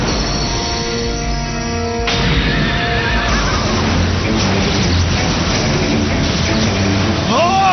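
Horse neigh for Galaxy Pegasus in the Beyblade Metal Masters cartoon, a loud whinny sounding at the start over a dense, busy soundtrack of whooshes and effects that carries on throughout.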